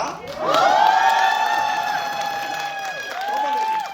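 A crowd at a singer's in-store EP signing event cheers, shouts and whoops loudly and steadily for about four seconds, with high excited voices rising together and then dipping briefly near the end.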